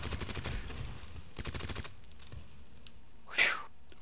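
Gunfire in the video game Resident Evil 2 (2019): two separate bursts of rapid, rhythmic shots, then a quieter stretch with one brief sharp crack near the end.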